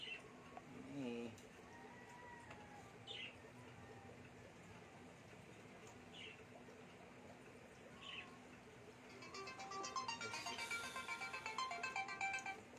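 An incoming call rings on a phone: a faint repeating ringtone chirps every couple of seconds, followed by a louder, busier tone burst near the end over a low room background.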